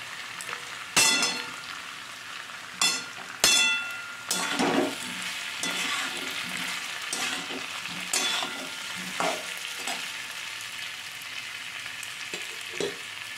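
Pumpkin and fried potatoes sizzle in a pan as a spoon stirs them, with several sharp scraping clacks early on and a steady frying hiss underneath, close and moderately quiet with no voices.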